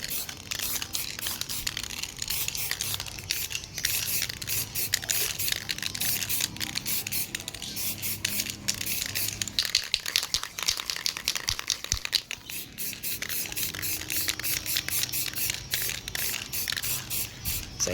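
Metallic silver spray paint hissing from an aerosol can onto a motorcycle crankcase, a long run of short bursts and steady sprays, close and crisp throughout.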